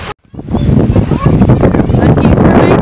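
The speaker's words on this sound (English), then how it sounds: "Ooh, it's nice and windy." Strong wind buffets the microphone at a tropical plantation on Maui, a loud continuous roar with gusting swells after a brief silent gap at the start.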